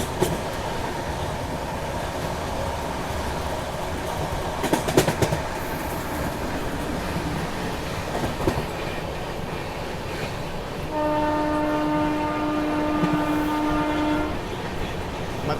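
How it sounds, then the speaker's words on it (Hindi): The Ananya Express passenger train rumbles past nearby with a steady roar of wheels and rail clatter. A few sharp knocks break in, and a long sustained horn sounds near the end. "ये देखिए अनन्या एक्सप्रेस।"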